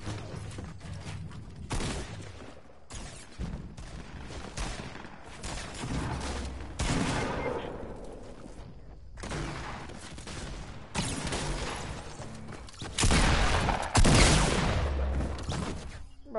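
Dense, loud bursts of video game gunfire crackle through a competitive match, volleys overlapping almost continuously with short gaps and heavier salvos toward the end.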